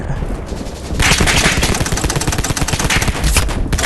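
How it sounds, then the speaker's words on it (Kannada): Automatic gunfire in the video game Polyfield 2, a rapid, loud stream of shots that starts sparser and becomes a dense continuous burst after the first second. "ಇನ್ನೊಬ್ಬ ಬಂದಿದ್ದಾನೆ ಅವನು ಶೂಟ್ ಮಾಡೋಣ"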